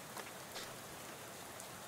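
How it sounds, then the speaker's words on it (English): Rain falls in the video game Shadows Over Loathing, a soft, steady wash of patter with occasional brighter drops, quiet and continuous without talk. "How about this rain? Oh, it's raining."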